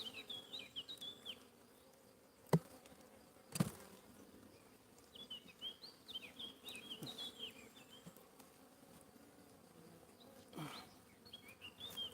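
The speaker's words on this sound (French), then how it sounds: "ça c'est compliqué quand t'as une abeille comme ça dans ton champ de vision" A bee buzzes close to a beekeeper working a hive, droning in and out with a rising and falling hum, broken by a couple of sharp knocks.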